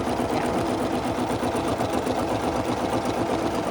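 A Bernette sewing machine stitches steadily, with a fast, even mechanical whirring and rapid needle clatter that stays close and continuous throughout, with no speech.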